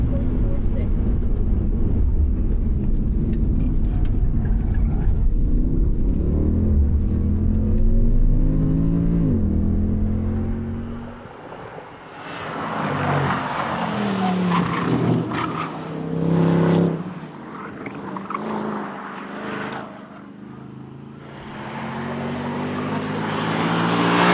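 Mercedes-AMG Black Series with automatic transmission lapping a track, its engine droning loud and close with rising and falling revs and shifts, then easing off as people talk over the noise.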